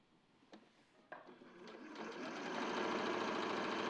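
Domestic sewing machine stitching a shoulder seam on a garment, starting with a few separate mechanical clicks, then building into a steady, fairly loud continuous whir of rapid needle strokes.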